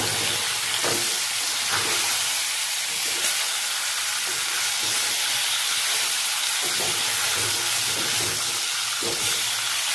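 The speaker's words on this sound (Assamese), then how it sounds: "এয়া তেল গৰম হৈছে, মাছখিনি এতিয়া দি দিম।" Fish frying in hot oil in a home kitchen, a steady broadband hiss and sizzle running loud and unbroken throughout, with faint crackles scattered across it.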